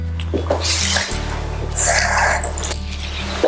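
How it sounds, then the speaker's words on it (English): Water is poured into a sauce for Korean pancakes, a steady close splashing and trickling over a low hum of kitchen noise. "And I'm going to add a little bit of water."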